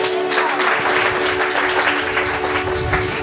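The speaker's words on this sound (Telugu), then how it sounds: "గట్టిగా చప్పట్లు కొట్టు." Church congregation clapping loudly and continuously, a dense sustained wash of applause filling the room with a faint voice beneath.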